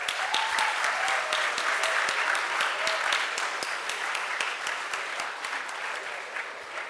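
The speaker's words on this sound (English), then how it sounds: "let's give a round of applause for them" A crowd at a closing ceremony gives the students a sustained, loud round of applause, thick and even throughout and easing slightly toward the end.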